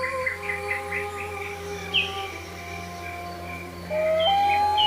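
Bird chirps and tweets scattered through a dark forest ambience, a few short high calls early and a sharper pair near the end, over a steady low hum, used as atmosphere in a spoken horror story.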